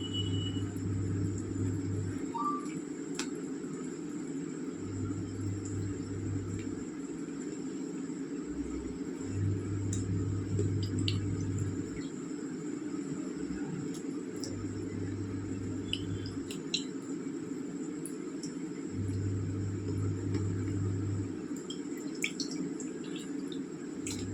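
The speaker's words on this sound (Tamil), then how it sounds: "நல்லா கொதித்து வரட்டுங்க" Chettinad vanjaram fish curry with green chilli simmers in a pan, giving a soft, continuous bubbling and dripping that runs alone under a low hum which cuts in and out.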